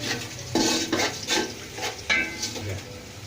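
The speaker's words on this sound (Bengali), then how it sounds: "পেঁয়াজ ভাজা হয়ে গেছে" Onions fry for Barishal-style Monu biryani, a close sizzle broken by several loud scraping stirs of a spoon against the pan.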